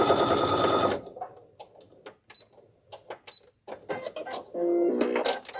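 A sewing machine stitches fabric for a scrap mug rug in short, loud, rapid bursts at the start and end, with quieter handling clicks in between.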